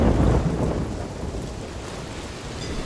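Steady rain with a deep rumble of thunder that starts loud, then fades under the constant hiss of falling water.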